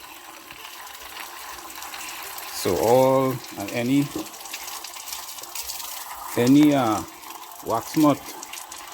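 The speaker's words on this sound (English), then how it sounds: "I'll come by the standpipe and just fill it with water." Water from an outdoor standpipe pours into a beehive frame in a steady, gushing stream, running continuously beneath someone talking in short bursts close by.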